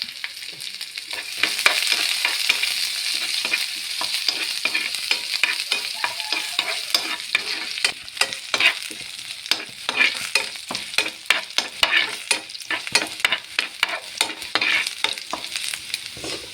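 Garlic and chopped ginger sauté in a hot pan for mango pickle, sizzling steadily while a spoon scrapes and stirs in quick, irregular strokes close by.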